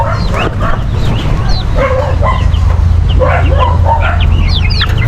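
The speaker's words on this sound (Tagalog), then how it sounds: "Humapon na sa atin yung manok." Chickens clucking close by outdoors, mixed with short barks and yips from a dog and a steady low background hum.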